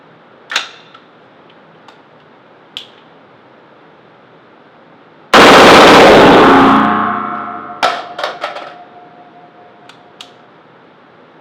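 An AR-15 fires once during a torture test of a Lancer L5 AWM magazine: a single loud, close blast that rings out and decays, with sharp metallic clicks and clanks before and after it.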